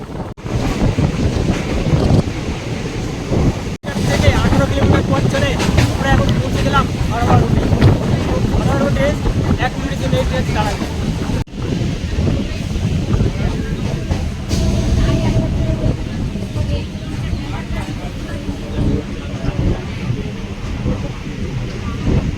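Inside a crowded local train running from Basirhat to Sealdah, a loud, steady rumble and rushing wind noise fill the carriage throughout, with brief dropouts and indistinct voices mixed in.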